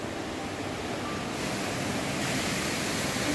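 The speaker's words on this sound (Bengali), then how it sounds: "এই যে ওয়াটারফলটা দেখা যাচ্ছে, এখান থেকে জলের আওয়াজ পাওয়া যাচ্ছে" Steady broadband rush of falling water at the Telaga Tujuh waterfall in Langkawi, Kedah, a continuous even roar with no voices, close and moderately loud throughout.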